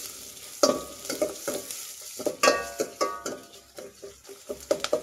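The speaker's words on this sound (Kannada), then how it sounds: "ಈರುಳ್ಳಿ ಒಂದು ಸ್ವಲ್ಪ ಫ್ರೈ ಮಾಡಿ" Finely chopped onion and a dried red chilli fry in oil, a soft sizzle under frequent clattering scrapes of a spatula stirring against the pan.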